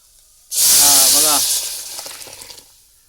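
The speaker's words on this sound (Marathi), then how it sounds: "आता ह्यो मसाला टाकूया म्हणजेच मिरची पावडर टाकूया" Chilli powder dropped into hot oil for a Konkan village curry bursts into a loud, sudden hiss that swells, then slowly fades over a few seconds, with no talking.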